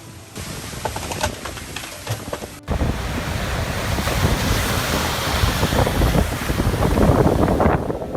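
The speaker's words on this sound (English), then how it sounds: "the storm also swept violently through coastal areas with waves continuously crashing onto the shore" Storm-driven waves crash continuously onto a coastal shore, a loud, steady roar of surf mixed with heavy wind buffeting the microphone, swelling slightly toward the end.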